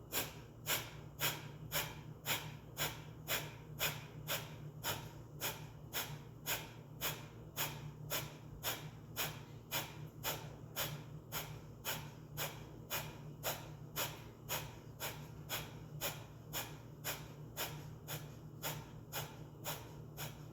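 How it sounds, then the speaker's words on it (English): Rapid pumping breath exercise, a steady train of forceful, evenly spaced inhale-exhale pulses, close and breathy, continuing without a break and without any talk. "Continuing the breath, pumping, inhaling, exhaling."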